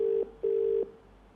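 An outgoing phone call's ringback tone, heard while calling: two clean, steady beeps of about a quarter and four tenths of a second, separated by a short gap, followed by a faint quiet line.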